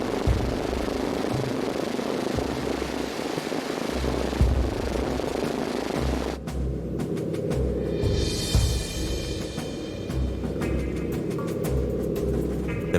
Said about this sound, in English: It's his first ride in an American bomber.